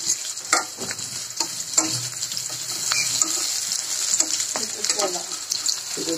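Onion and green chili frying in oil in a pan alongside a bay leaf, a steady sizzle with occasional stirring scrapes and clinks, close and continuous without talk.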